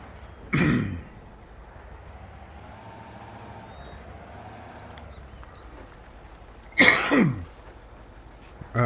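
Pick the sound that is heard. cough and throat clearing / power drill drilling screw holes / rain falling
cough and throat clearing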